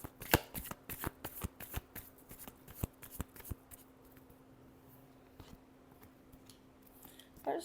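Tarot cards being shuffled by hand during a reading, a run of crisp riffling clicks and flutters that thin out midway, then a brief final burst of card noise; no talking.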